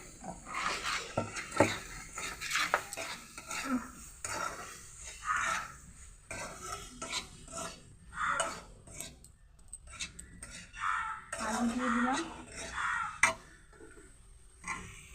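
A spoon scrapes and stirs potatoes and soybean chunks with pepper powder in a pan, soft irregular clinks and scrapes with a faint sizzle, fairly quiet and close.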